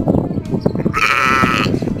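A Belgian sheep lets out one loud, close bleat lasting under a second amid rustling and handling noise while being fed dandelions outdoors.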